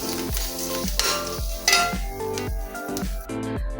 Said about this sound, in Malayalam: അത് കഴിഞ്ഞ് ഇതൊന്ന് ഡ്രൈ ആയിട്ട് നമുക്കൊന്ന് റോസ്റ്റ് ചെയ്തെടുക്കാം